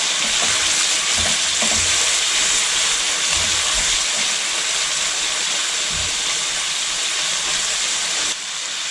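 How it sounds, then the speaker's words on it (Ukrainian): Meat frying in a pan, a loud, dense, steady sizzle and hiss close up, with a few low bumps as the pieces are turned, and no voices. "М'ясо обсмажилося, перевертаємо його на другий бік. і обсмажуємо далі."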